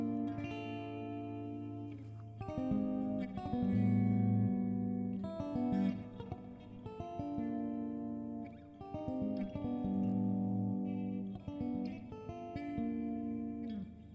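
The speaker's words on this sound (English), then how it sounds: "this specific amp sim, you can get really good clean sounds. Now I'm switching to the middle position again." Clean-toned electric guitar on the middle pickup through a Neural DSP amp simulator, playing a steady riff of sustained chords and ringing notes at low, even volume.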